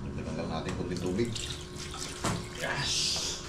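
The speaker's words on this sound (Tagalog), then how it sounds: "Dagdagan lang natin kunting tubig" Tap water runs into a cooking pot on the stove, a steady close splashing stream with a voice speaking over it.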